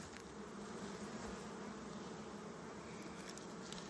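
Honeybees buzzing at an open hive, a dense steady hum of many wings close by, continuous and fairly faint, with no talking.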